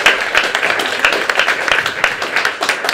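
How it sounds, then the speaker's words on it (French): An audience applauds at a presentation of a 2023-2024 university programme, giving dense, steady clapping with scattered sharper claps throughout. "je souhaite que vous l'applaudissiez très"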